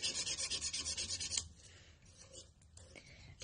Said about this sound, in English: you sand in one direction.